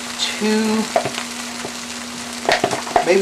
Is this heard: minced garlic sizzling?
yes